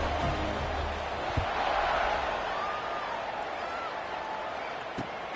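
A football stadium crowd roars in a broad, steady wash of cheering and applause, with a couple of sharp thuds cutting through the sustained noise.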